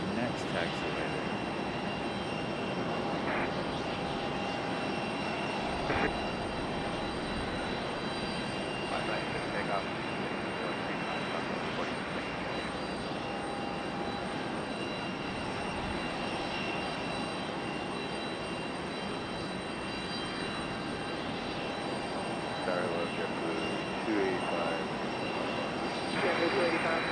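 Jet airliner engines at Raleigh-Durham International Airport, a steady, far-off roar that holds for nearly half a minute with a few faint thumps, while voices talk faintly over it.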